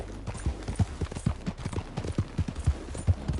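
Hooves of a galloping horse in Red Dead Redemption 2 thud in a fast, even clip-clop rhythm, close and steady throughout, with faint background ambience and no voices over it.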